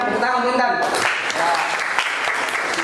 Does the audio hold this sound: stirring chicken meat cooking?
no